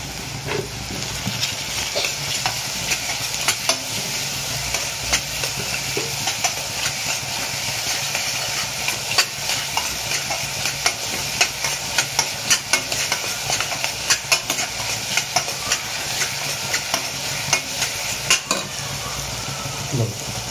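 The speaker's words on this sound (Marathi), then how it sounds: "आणि कांदा शिजण्यासाठी आपण टाकणार आहे मीठ." Chopped onions frying with salt in a kadhai while cooking Maharashtrian zunka, a steady close sizzle with frequent scraping stirs throughout, no voices.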